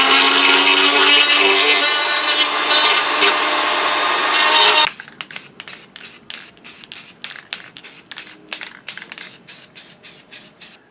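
A replica movie-prop part has its inside edge trimmed: a loud continuous sanding or grinding rush for about five seconds, then a quick series of short rhythmic rasping strokes, close with no talking.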